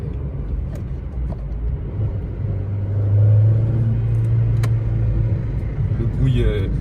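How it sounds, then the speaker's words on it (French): A Ford Focus 2 sedan running on LPG accelerates, its engine rumble swelling to a louder steady drone, heard from inside the car. "je vais vous montrer aussi une petite accélération en GPL"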